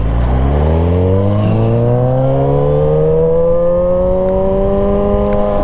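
A Suzuki GSX-R 1000cc motorcycle engine revs up smoothly as the throttle is eased open, its steady close-up drone rising gradually in pitch over several seconds with no talk.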